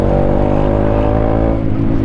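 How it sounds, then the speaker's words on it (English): A loud motorcycle engine rumbles steadily up close, its deep Black Widow aftermarket exhaust droning with a raspy, throaty tone throughout. "what you can hear is that Black Widow exhaust on it"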